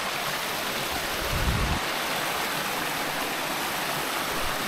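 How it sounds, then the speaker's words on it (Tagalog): Waterfall at Mandala Falls in a Bulacan nature park, running with a light flow of water, gives a steady, dense broadband rush that continues unbroken throughout, with a brief low rumble partway through. "Ayan, medyo mahina yung tulo ng tubig gawa ng hindi pa masyadong nag-uulan"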